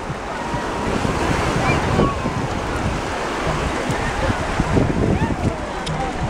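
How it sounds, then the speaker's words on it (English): Ocean surf washes steadily where a river meets the sea on a Jamaican shore near Ocho Rios, a loud continuous roar of waves mixed with gusty wind against the microphone. "right here is where the ocean and the river meet"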